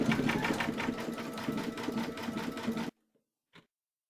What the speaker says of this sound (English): we're now going to stitch round number 9, and that's going to do the satin stitching of the coaster